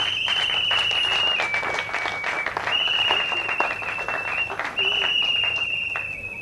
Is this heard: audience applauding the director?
yes